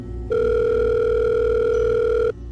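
A telephone ringback tone plays while someone calls their mother, one long steady electronic tone with a clear start and stop, alone and close.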